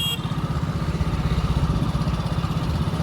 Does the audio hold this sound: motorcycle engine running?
yes